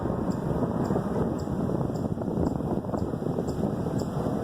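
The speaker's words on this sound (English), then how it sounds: "It's a little windy, so I hope you guys can hear me" Strong outdoor wind buffeting a microphone, a constant low rumbling roar with gusty fluctuations throughout, loud and close, no voices.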